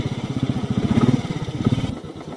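Bajaj Pulsar motorcycle engine on a rough off-road track, a close, rhythmic low thumping putter that holds steady, then thins out near the end.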